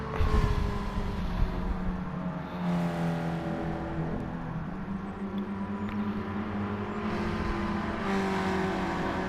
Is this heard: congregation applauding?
no